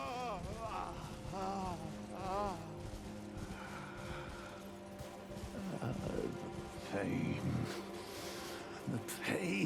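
Horse hooves clip-clop at a steady gallop in the fantasy game Elden Ring: Shadow of the Erdtree, with a continuous soundtrack and a voice talking over the ride.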